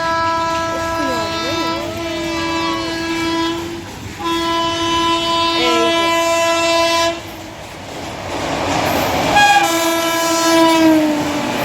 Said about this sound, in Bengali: ওই দেখ, ওই দেখ একটা ট্রেন আসছে না।